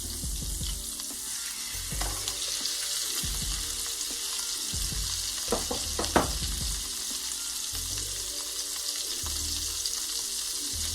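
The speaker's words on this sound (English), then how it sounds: "We're going to take our salmon down in the pan. Skin side down first." Salmon fillet sizzling skin side down in a hot pan for a Cajun blackened dish, a continuous loud frying hiss with a few pan knocks and brief clinks midway, no talking.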